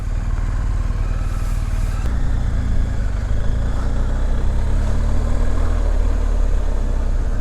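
A BMW R 1250 GS motorcycle engine runs steadily while riding, a loud continuous low rumble with wind noise, without speech.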